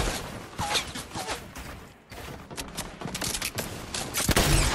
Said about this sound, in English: Let's go nade launcher.